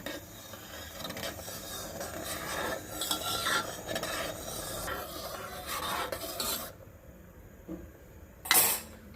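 A spoon scrapes and stirs through a spinach khichdi mixture with a tablespoon of turmeric, a steady close rasping and rubbing that runs throughout before a brief sharper scrape near the end.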